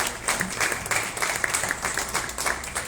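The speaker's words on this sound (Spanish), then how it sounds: "Le damos un aplauso al doctor Luis Alberto Castro Sánchez por su participación esta tarde" Audience members at a university anniversary talk clap for a guest doctor after his participation, a lively, fairly close round of applause with uneven individual claps throughout.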